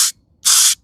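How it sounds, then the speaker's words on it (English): Spray bottle misting a weathered headstone during cleaning, two crisp hissing bursts, a short one then a longer one, close and loud with a brief silent gap between. "Let's see if we can spray it and see what happens."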